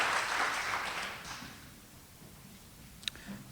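Faint, distant applause from an audience before a political speech on empire, a soft wash of clapping that dies away within the first couple of seconds, leaving near silence and one sharp tick.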